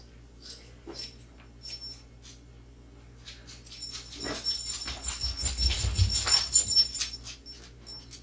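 A dog whimpers and whines in thin, high bursts that build toward the end, close by and fairly loud, mixed with rustling and handling noise.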